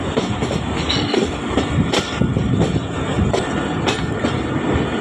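Jaffar Express train at Rawalpindi railway station, a steady loud rumble of rolling stock with occasional sharp clanks and squeals standing out over continuous station noise, no talk.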